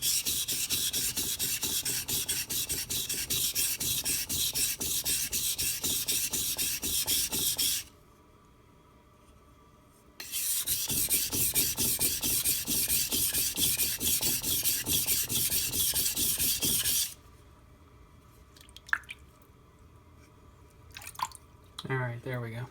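A kitchen knife is drawn back and forth across a wet sharpening stone with a Naniwa angle guide, a loud, steady rasping scrape in two long bursts separated by a quiet pause, with a few light taps near the end.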